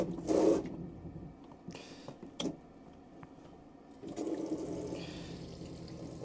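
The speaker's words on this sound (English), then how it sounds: "And that is your hot water there coming through" Kitchen tap in an Auto-Trail Excel 620G motorhome running hot water, a short gush at the start, a few clicks and drips, then a steady flow of water into the sink near the end.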